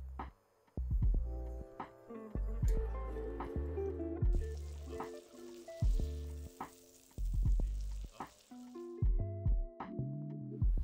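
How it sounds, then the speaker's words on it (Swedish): Asparagus fries in a stainless steel frying pan, with a soft sizzle punctuated by sharp clinks and scrapes as the spears are stirred and turned, close and fairly quiet. "då har vi stekt färdigt sparrisen i vår rostfria stekpanna"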